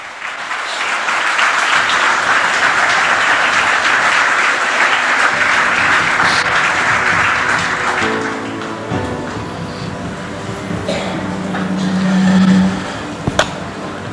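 A church congregation bursts into loud, sustained applause during a sermon, a thick roar of clapping for about eight seconds that then drops away into quieter room sound with a faint tonal hum and a couple of late taps.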